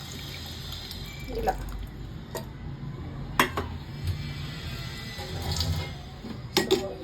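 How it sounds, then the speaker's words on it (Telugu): Tamarind water is poured into a pot of dal with tomato, making a soft liquid splash and trickle followed by light clinks of a utensil against the pot, while a voice briefly speaks. "ఈ చింతపండు వాటర్ వేసుకొని"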